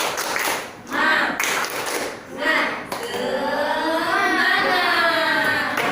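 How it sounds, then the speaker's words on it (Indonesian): Primary schoolchildren in a classroom do a rhythmic spirit clap together, sharp claps in short groups, then the class's voices chanting loudly in unison with the clapping. "kita tepuk semangat dulu ya sama-sama"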